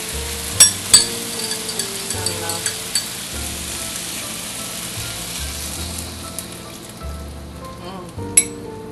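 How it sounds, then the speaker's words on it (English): Pineapple juice being stirred into a pan of sizzling chicken with cumin and cinnamon gives a steady fry hiss, with a few sharp utensil clinks near the start and end. "stir in that pineapple juice that you put aside"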